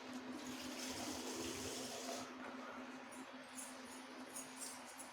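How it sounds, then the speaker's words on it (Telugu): Water pours steadily into a cooking pot for pasta, a soft continuous splashing rush that eases slightly toward the end, close and quiet with no voices. "ఇంకా నీళ్ళు పడితే వేసుకోండి."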